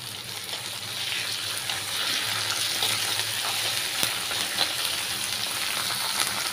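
Onion and ginger-garlic paste frying in a pan: a steady, close hiss of sizzling oil with soft stirring, continuous throughout with no talk.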